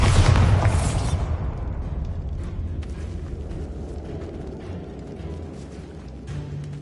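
The Bombarda spell in Hogwarts Legacy goes off as a loud, close explosion at the start, then decays into a long rumble with creaking, grinding debris and scattered clicks, with no voices.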